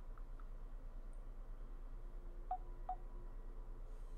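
A phone plays a few faint, short button tones, scattered separate beeps over a low steady hum, with no talk.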